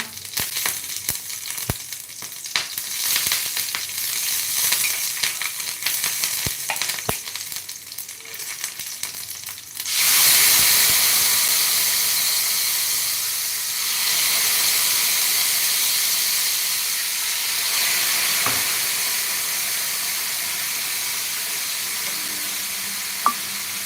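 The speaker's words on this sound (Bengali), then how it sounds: "একটু জিরা ফোড়ন দিয়ে দিলাম" Cumin seeds and green chillies hit hot oil with a sudden loud sizzle about halfway through, the steady frying hiss then continuing close and strong after a quieter stretch of faint kitchen clatter, no voices.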